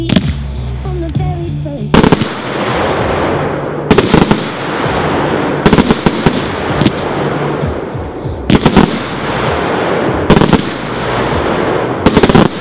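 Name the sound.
Dominator 49-shot fan red and gold break firework cake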